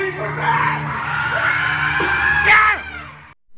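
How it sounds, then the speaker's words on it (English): Crowd at an open mic night in a Carbondale bar lets out sustained loud yelling and screaming, a dense roar of voices lasting about three seconds with a sharper peak near the end before cutting off. "Let me hear you fucking scream for that!"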